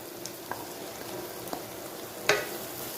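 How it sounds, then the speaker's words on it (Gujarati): Ghee-soaked semolina roasting in a kadai over a low flame makes a faint, even hiss, broken by a few light taps and one sharper clink near the end. "હવે આપણે જે રવાને ઘીની અંદર પલાળીને રાખ્યો છે તે આપણે કડાઈની અંદર એડ કરી દઈશું"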